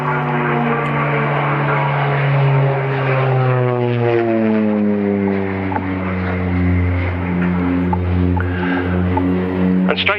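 An OV-10 Bronco twin-propeller aircraft flies a display at an airshow, its loud droning engines sweeping down in pitch as it passes overhead and recedes, steady and strong throughout.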